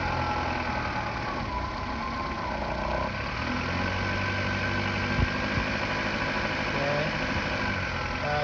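A car engine with newly replaced motor and transaxle mounts hums steadily while shifted between drive and reverse under light throttle, a continuous close drone with a faint knock partway through.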